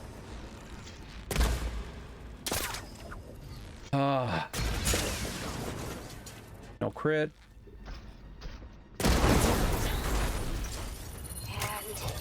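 Gunfire and explosions erupt from autonomous defenses in the Horizon Forbidden West video game, loud bursts and rapid fire in several clusters, with mechanical clanks between them and a voice speaking briefly over the action.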